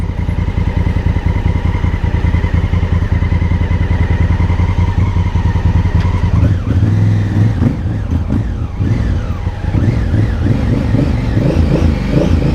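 A Honda Africa Twin motorcycle runs loud and close on a test ride in a car park, holding a steady engine note before shifting and revving unevenly in the second half.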